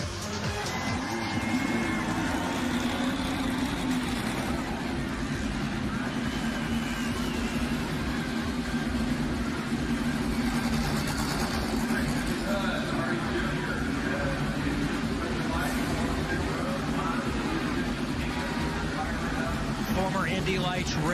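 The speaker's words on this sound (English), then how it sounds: "start your Mazda engine" A dense, steady roar of many Indy Lights race car engines idling and revving together at the start of the Freedom 100, with crowd babble mixed in under the rumble.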